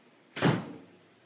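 A studio door opens with one sudden, fairly loud swoosh and rattle that fades out quickly, heard alone in a quiet room.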